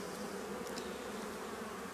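Honeybees buzz over a hive frame during a spring inspection, a close, steady drone with faint passing hums on top and no speech.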